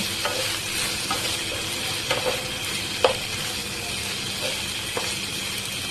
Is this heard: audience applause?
no